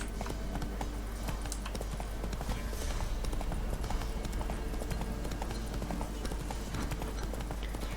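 Roach, the horse in The Witcher 3, gallops with continuous rhythmic clip-clop hoofbeats, close and steady for the whole stretch over faint ambient game sound.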